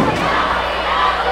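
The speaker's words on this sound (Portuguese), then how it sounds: "E a torcida grita!" A crowd at a school games final roars and shouts after a goal, a dense, sustained wall of cheering voices that holds steady and loud throughout.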